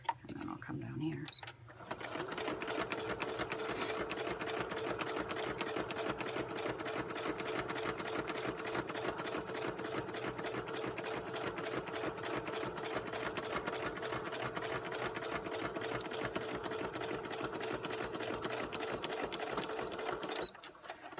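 A sewing machine runs steadily for close to twenty seconds, its rapid needle clatter even and continuous, with a short pause and restart at the beginning and a stop near the end.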